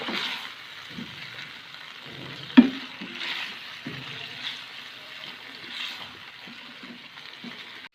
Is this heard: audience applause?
no